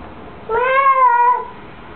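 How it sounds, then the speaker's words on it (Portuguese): A single clear cat meow, drawn out for about a second, close by against a quiet background. "É o gato?"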